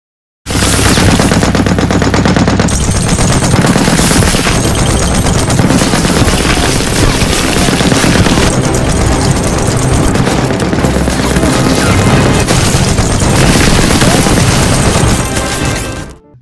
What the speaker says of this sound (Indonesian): Dani dengan senjata mesinnya berhasil menghabisi seluruh tentara yang mendekati parit tersebut